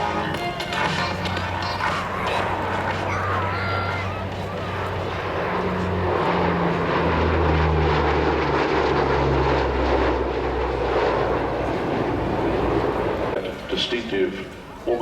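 A U.S. Navy F/A-18F Super Hornet roars past at the 2009 Australian International Air Show, its twin jet engines swelling to a loud, sustained rumble and then fading, while a commentator talks over it.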